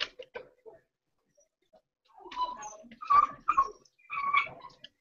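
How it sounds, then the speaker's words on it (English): Puppy whimpering and yipping close by, with a couple of brief cries at the start, then a cluster of high, wavering whines in quick bursts with short pauses, no talking over it. "I hear puppy."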